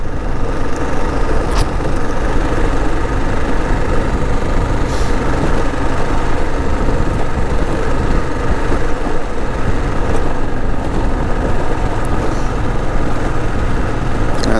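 A motorbike engine drones steadily while riding on a gravel road through a game park in Namibia. The sound is loud and continuous, mixed with wind and road rumble, with no clear changes.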